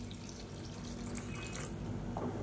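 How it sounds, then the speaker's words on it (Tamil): Water runs steadily into a cooking pan of sautéed chutney ingredients with a continuous splashing, trickling sound, fairly close and without any talking. "இப்போ இதில் தேவையான அளவுக்கு தண்ணி சேர்த்துக்கலாம்."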